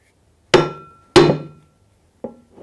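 A shoemaker's hammer, about twenty years old, strikes three times: two loud, ringing blows about half a second apart, then a softer third hit after a pause, with no talk.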